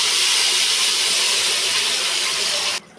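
Spice paste dropped into hot oil in a wok after black cumin, a bay leaf and a dried chilli, giving a loud, steady, broad sizzle that runs for about three seconds and then cuts off abruptly.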